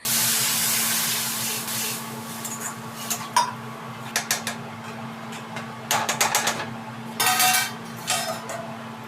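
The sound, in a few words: pouring a glass of water into the curry pan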